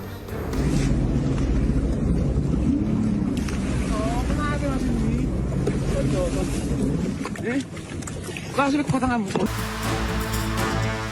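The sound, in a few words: jet skis on Lake Toba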